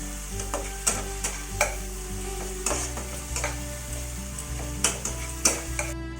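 Tomatoes sizzling in hot oil in a pan for a cashew paneer curry, with a spoon scraping and stirring in repeated strokes over the steady fry, no voices.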